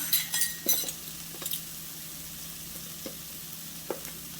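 Zucchini noodles seasoned with garlic powder are stirred in a pan over steady frying sizzle, with a few quick scrapes and clinks near the start and occasional soft taps later, close and fairly quiet.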